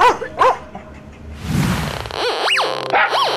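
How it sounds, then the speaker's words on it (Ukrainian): A rescue service detection dog barks in several sharp, rising yaps, two early and a louder pair near the end, close by, with a whooshing rush of noise between them. "Пес із ДСНС «Патрон» інформує"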